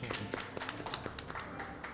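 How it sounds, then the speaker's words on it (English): A crowd at a festival stage gives a round of applause. Quiet, scattered claps patter irregularly at a distance, with faint talk mixed in. "Round of applause,"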